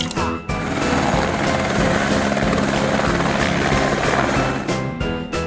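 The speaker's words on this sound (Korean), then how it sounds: "helicopter," A helicopter with a loud, steady rotor and engine drone that stays close and constant for several seconds.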